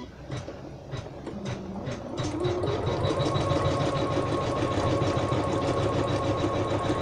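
An embroidery machine stitches an applique placement line in brown wood-coloured fabric, running as a steady, continuous mechanical whir with fast repetitive needle strokes that grow a little louder partway through, with no talking.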